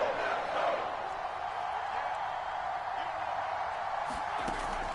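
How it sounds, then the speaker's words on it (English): A football stadium crowd of Steelers and Packers fans roars steadily before a third down, a broad, sustained wash of noise with faint talk underneath. "The crowd getting into it as we come up on a big 3rd down."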